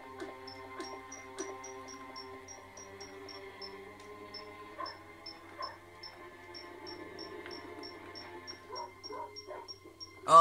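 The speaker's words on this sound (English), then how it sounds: "dog!" A dog barks in the Chicken Run PS1 video game, faint yips and short barks scattered among quiet, steady electronic game tones, with a sharper sound right at the end.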